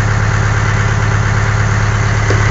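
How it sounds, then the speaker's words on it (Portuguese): A Caterpillar CA15 roller compactor's diesel engine idles steadily while warming up, a constant low rumble with strong vibration, close and loud, with no voices. "você tem que deixar na base de uns 5 minutos esquentando o motor"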